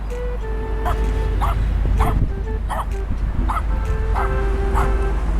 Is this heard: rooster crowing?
no